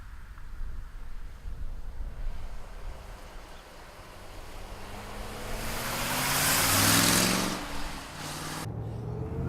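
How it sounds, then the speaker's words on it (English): A 1969 Chevrolet Corvette driving past on the road: a faint background rush of wind and traffic, then the car's engine and tire noise swell and fade as it passes fairly close, with no talking. "let's take this 69 Vette for a ride"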